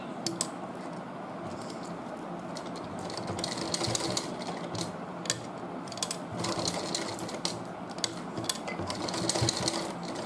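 Sewing machine stitches steadily and continuously across a floor mat made from waste cloth scraps, a rapid mechanical clatter with occasional clicks throughout.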